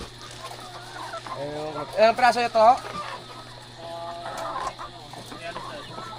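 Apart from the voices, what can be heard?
chickens on a poultry farm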